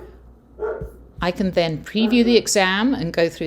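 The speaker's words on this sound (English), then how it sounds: "sorry about the barking dogs" Dogs bark in short bursts in the background while someone talks close to the microphone over them.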